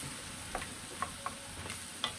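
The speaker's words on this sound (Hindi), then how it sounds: "योगर्ट को मिक्स करते हैं" A spoon stirs creamy yogurt into tomato masala in a pan, giving a few light scraping clicks over a steady low sizzle.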